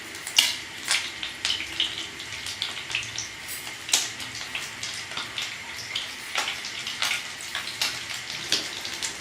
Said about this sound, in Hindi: अब हम इनको पहले टिक्कियों की तरह एक साइड से पहले फ्राई होने देंगे